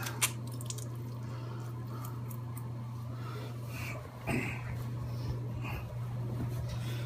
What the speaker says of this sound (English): you just kind of squeeze some of that water off